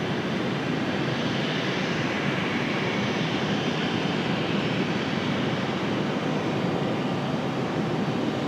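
An airplane at Raleigh-Durham International Airport produces a steady, broad jet roar that holds at an even level for the whole stretch, with no talking.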